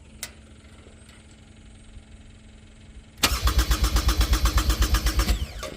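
Engine of an R319 machine cranks and fires after a quiet stretch of low hum, catching at once into a loud, steady pulsing idle with a strong rhythmic thump, close by and with no voices.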